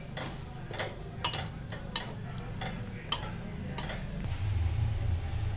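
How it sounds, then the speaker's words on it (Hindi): A spoon presses and mashes soft cooked chickpeas for chole in a pot, producing a series of distinct metal taps and scrapes at an irregular pace over a low bubbling background, with a duller thick stirring sound near the end. "अब हम इसे चम्मच की मदद से थोड़ा दबा लेंगे।"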